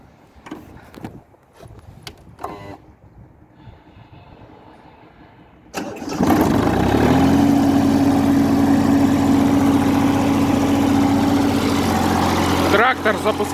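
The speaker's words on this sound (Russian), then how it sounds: "Трактор запускается очень легко." An ISEKI TU197 mini tractor fitted with a soil tiller, in Chita, cranks after some quiet clicks and handling noises, then starts and settles into a loud, steady idle close to the microphone.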